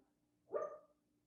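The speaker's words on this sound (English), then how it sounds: "my dog is barking in her sleep behind me" A sleeping dog lets out a single short, muffled bark in the background of a room during an online math lecture, faint and brief, with no talking over it.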